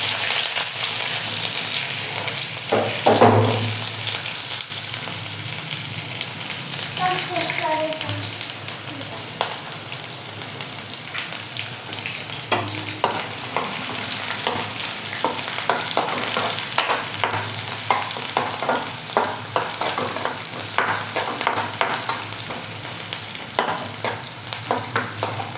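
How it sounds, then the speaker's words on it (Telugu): Onions and green chillies frying in a hot pan with curry leaves, a steady sizzle broken by spatula scrapes and stirring clatter, with a louder burst as ingredients drop in early on. "ఇప్పుడు ఇందులోకి ఇలా ఆనియన్స్ని కూడా యాడ్ చేసుకుంటున్నాను."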